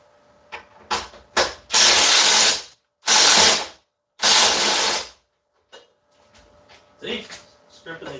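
A power tool set to its torque setting stripping bolts on a Jeep in a garage, several short ratcheting bursts followed by three loud sustained runs, then scattered clicks, with someone talking between them.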